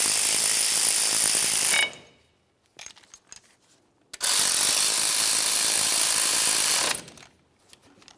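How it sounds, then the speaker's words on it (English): Close ratchet clicks in two fast bursts as lug bolts are run down and torqued on the front wheel hub of a 2004-2015 Nissan Titan, with light metallic clinks in the pause between. "Now we can bottom each of these out and then torque them to 32 foot-pounds."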